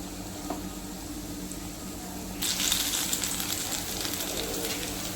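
Prawn-stuffed taro leaf rolls (alu vadi) fry in plenty of hot oil, a quiet background hiss that suddenly swells into a brighter, crackling sizzle partway through and stays steady.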